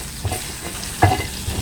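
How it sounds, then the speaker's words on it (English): Fish frying in a pan for a Balinese curry, a soft steady sizzle stirred now and then, with a couple of brief louder scrapes and clacks close by. "So you can hear there's a nice sizzle."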